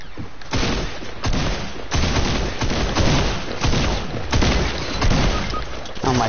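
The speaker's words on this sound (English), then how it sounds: "So somebody's back there sniping." Sniper rifle shots in a Fortnite match ring out as repeated loud cracks and booms over continuous game noise and gunfire, with several sharp bursts spread across the moment.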